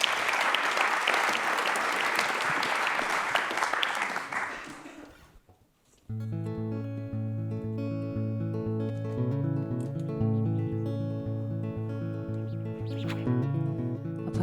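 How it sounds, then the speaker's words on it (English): An audience claps warmly for about five seconds at a community update event, the applause fading to silence before live guitar music begins. "Give them a warm applause."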